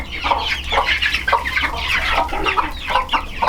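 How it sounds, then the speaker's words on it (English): Young Ameraucana and Sussex chicks, only days apart in age, clucking and peeping in a close, busy chorus of rapid overlapping calls with no voices. "the Americana chicks and the Sussex chicks, they're only like 3 days apart"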